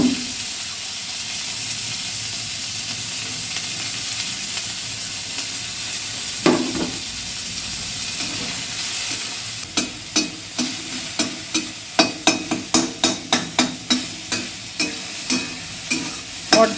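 Chopped garlic, split green chillies and onion fry in oil in a pan, with a steady loud sizzle and then a quick, regular series of spatula scrapes and taps as the mixture is stirred.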